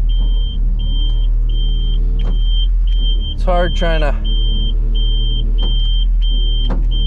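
A hook lift truck lifts a light dumpster, its engine rumbling low and steady while a repeating electronic beep pulses throughout; someone speaks briefly in the middle.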